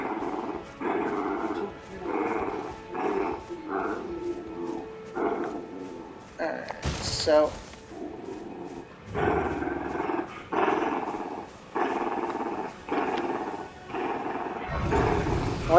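A creature in Elden Ring growls in repeated rough, rumbling bursts, steady and close, with a brief louder burst partway through and a few spoken words mixed in.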